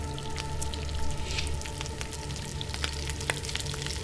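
Food frying over a fire in The Long Dark survival game, a steady close crackling sizzle with scattered pops and a low background hum, continuous throughout.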